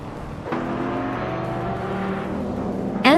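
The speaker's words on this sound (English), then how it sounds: "Anaxagorax is driving a 1993 Ford Mustang SVT Cobra, starting from the 1st position" A 1993 Ford Mustang SVT Cobra race car in a racing video game holds a steady, droning engine note, then revs sharply upward in a rising whine near the end.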